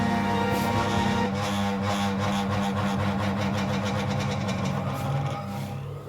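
A sewing machine motor hums and whines steadily without starting, with a weak capacitor, its drone shifting pitch partway through and fading slightly at the end.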